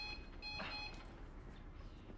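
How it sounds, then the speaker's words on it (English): Faint electronic alarm beeping, a short run of repeated high tones in the first second, then a low steady background hum in a quiet room. "Why is the alarm on?"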